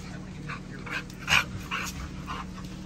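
A blue XL Pitbull puppy whimpers in a series of short, high, thin cries, close by over a low steady background hum.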